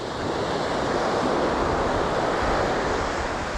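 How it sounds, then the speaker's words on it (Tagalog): Steady roar of ocean waves breaking, a continuous wash of surf with wind noise and no voices. "Pahuhugutin muna natin yung alon."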